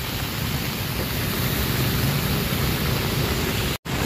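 Heavy rain falling at Luneta, Rizal Park, a dense steady hiss close up that holds throughout with one brief cut near the end.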